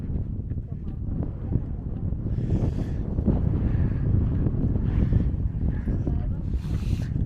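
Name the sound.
wind noise on the microphone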